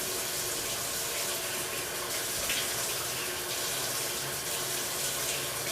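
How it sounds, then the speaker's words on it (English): Tap water runs steadily into a sink while exfoliator is rinsed off a face, a loud continuous splashing hiss close by with slight changes as the hands move through the stream, and no talking. "So you gotta really rinse it off."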